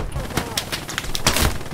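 Gunfire crackles in Hell Let Loose, a burst of sharp, irregular shots close by, several in quick succession over less than two seconds.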